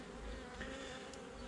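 Honeybees in an opened hive box hum in a dense, steady drone close by, with no talk over the buzzing.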